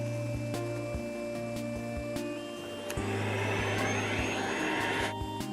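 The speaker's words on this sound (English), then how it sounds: "I'll give it a quick vacuum." A vacuum cleaner runs steadily over a model railway scenery module, a continuous motor whine with a hum that swells and turns rougher partway through as the nozzle works across the surface.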